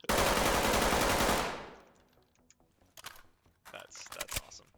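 MP5 submachine gun firing in the game Ready Or Not: one loud, dense burst of automatic fire that fades over about a second, followed by scattered sharp clicks and mechanical handling noises.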